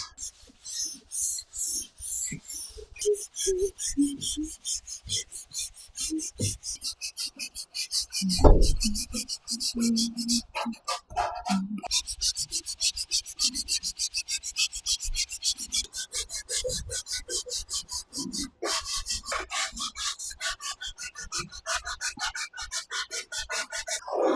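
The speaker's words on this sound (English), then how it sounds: "I'm gonna keep sanding with my 220 grit." Steady rhythmic rasping of 220-grit sandpaper rubbing across a wooden dresser, close up and continuous, with a few knocks and pauses along the way.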